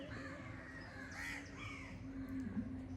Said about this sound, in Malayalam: കാക്കയും കിളികളൊക്കെ കരയുന്ന കേട്ടോ